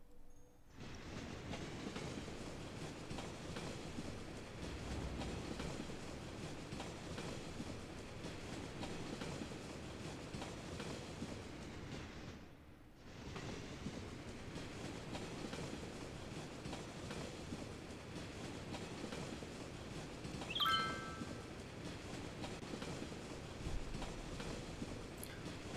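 Tram running through a city in the video game Cities: Skylines, a steady rolling rail rumble with wheel clatter, continuous and fairly close, with a brief dip midway and a faint squeal later.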